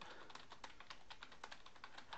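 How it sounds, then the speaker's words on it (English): Rapid clicks of a computer keyboard as someone types a shortcut in a web editor, a steady run of close, crisp keystrokes with no voice. "I can highlight it and hit Control plus B, and I can bold my text"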